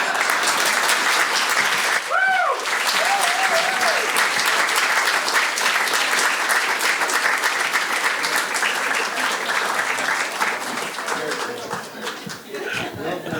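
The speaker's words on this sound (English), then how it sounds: "Let's give Halina another big round of applause" Sustained audience applause fills the room, a dense wash of clapping with cheers and laughter rising over it, fading slightly near the end.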